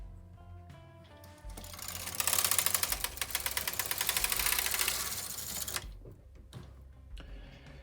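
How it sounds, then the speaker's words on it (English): Carriage of a Brother KH 230 chunky knitting machine sliding across the needle bed to the left, setting needles for intarsia: a loud, rapid mechanical clatter and ratcheting that swells for a few seconds, then stops, with faint clicks after. "you're going to move your carriage over to the left hand side, and this will position your needles into Intarsia"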